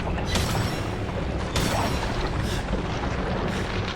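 Loud, dense bursts of gunfire in Resident Evil 7: Biohazard crack out repeatedly over a constant roar of game noise, with sharp shots near the start and middle.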